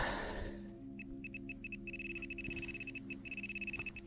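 Garrett Ace metal detector giving a pulsing, repeated electronic signal tone in short rapid bursts, steady and close, over a low background hum outdoors on abandoned garden plots.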